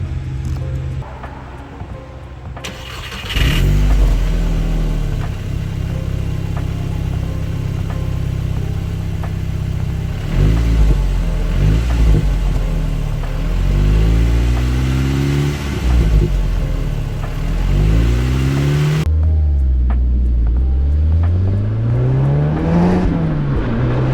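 VW Mk6 Golf R fitted with an APR catback exhaust on the stock midsection, revved repeatedly close up, its deep exhaust note rising and falling through several sweeping throttle blips over a steady idle rumble.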